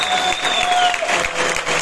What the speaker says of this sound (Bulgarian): Моля, силни аплодисменти!